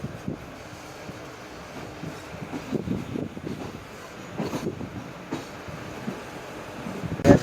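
Indian passenger train running, heard from inside a carriage: a steady low rumble with irregular rattles and wheel clatter, ending in a brief sharp squeal.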